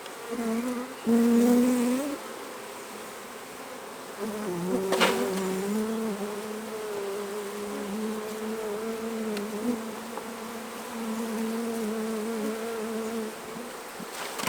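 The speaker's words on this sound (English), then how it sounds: "just shake a couple of frames of bees into the box so that the queen has got bees with her" Honey bees shaken from brood frames into a box in an apiary, a dense sustained buzz of many insects close by, with a brief thump as the frames are knocked and the swarm's hum swelling afterward.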